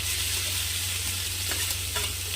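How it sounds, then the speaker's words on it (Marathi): Green chilli thecha fries and sizzles in hot oil with garlic and cumin, a steady close crackle over a low hum, with a couple of brief stirring scrapes toward the end. "तेल तापलेला आहे आता आपण ठेचा ॲड करू यामध्ये"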